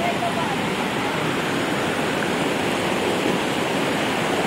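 Aliwagwag Falls pours in a steady, dense roar of falling water, close and unbroken, with no voices over it.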